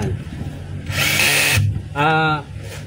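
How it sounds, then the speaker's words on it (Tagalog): Short bursts of a power screwdriver tightening the field coil screws of a Makita 4131 circular saw, two close whirring runs with a pause between. "Yung screw sa field coil. Ayan. Ihigpitan natin yan"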